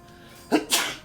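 A single sharp sneeze up close, a quick intake followed by a loud burst.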